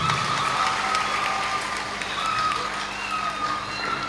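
Audience applause at a televised Cameroonian talent contest, a steady, moderately distant clapping from a crowd that continues evenly throughout.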